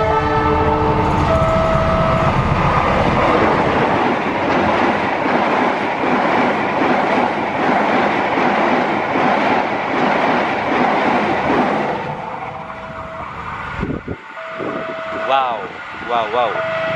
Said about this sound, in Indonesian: Kita tunggu kereta berikutnya ya, yang melintas di sini.